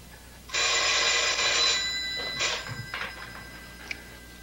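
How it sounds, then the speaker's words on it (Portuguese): A telephone bell gives one long, loud ring, then shorter broken bursts of ringing follow as the sound fades in a quiet room. "O telefone está chamando."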